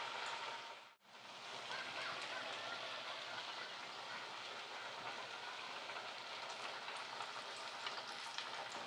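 Vegetable vadai frying in hot oil, a dense steady sizzle and crackle that runs continuously near and loud after a brief dip at the start, with no talk.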